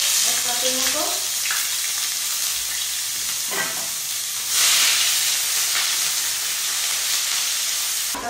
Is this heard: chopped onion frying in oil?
yes